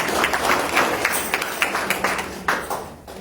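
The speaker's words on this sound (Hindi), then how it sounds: "ताली बजाना हो तो खुल के बजाओ" Audience at a Ram katha in a Hindu temple in Hamilton clapping, a loose patter of scattered hand claps at close range, thinning out toward the end.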